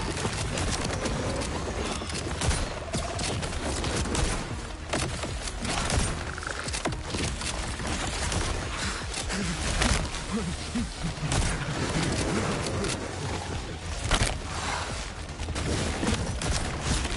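Rapid bursts of gunfire in the shooter video game Borderlands 4, a dense, continuous barrage of shots and impacts filling the whole stretch with constant action noise.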